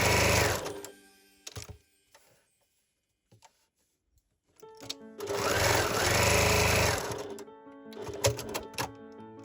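A sewing machine stitches brown fabric scraps for a handmade Christmas tree string bag, running in loud whirring bursts: a short run, a pause with faint handling sounds, then a long steady run followed by shorter stuttering passes.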